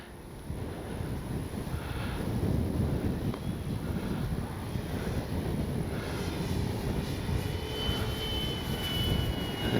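An RC P-47 Thunderbolt model airplane flies overhead, its engine a steady droning buzz mixed with wind noise on the microphone, held at a fairly constant moderate level throughout.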